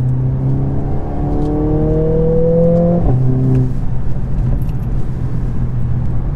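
A Mercedes A45s AMG with its powerful four-cylinder engine accelerates hard, the loud close engine note climbing through the revs, dropping at a gear change and rising again before settling into a steady drone.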